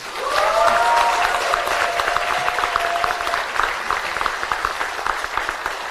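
Audience at a speech for a women's political academy opening ceremony applauds steadily, a dense sustained clapping across the whole stretch, with faint high voices or cheers near the start.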